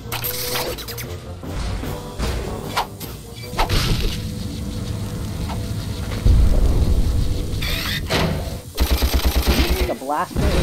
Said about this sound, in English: The blaster is your machine gun in this game.